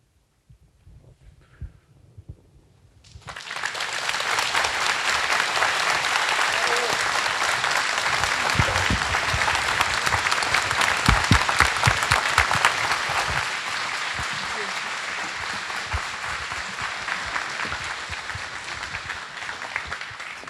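An audience at a commemorative talk on Chiune Sugihara breaks into loud, sustained applause after a near-silent start, the dense clapping holding steady for over fifteen seconds and thinning only slightly toward the end.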